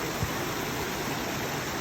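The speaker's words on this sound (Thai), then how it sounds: "นี่แหละภาพบรรยากาศน้ำตก ของบ้านหวด" The waterfall at Huai Huat gives a steady, broadband rush of falling water, close and constant throughout, with no voices.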